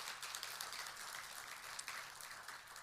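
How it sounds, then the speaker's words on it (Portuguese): Applause from a church congregation during worship, a faint, steady wash of many hands clapping at a distance, with no pause through its few seconds. "Dá um grande salva de palmas ao Senhor, em nome de Jesus."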